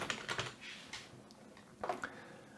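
Keys clatter in a quick, uneven burst of close, light clicks as text is typed on a computer keyboard for a Microsoft Teams Whiteboard, pausing briefly before another short flurry.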